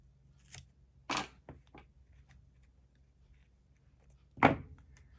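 Scissors snip through sticker or paper material while decorating a creative journal with Dutch doors, heard as a few short, close, crisp cuts spaced apart, with one louder snip near the end in an otherwise quiet room.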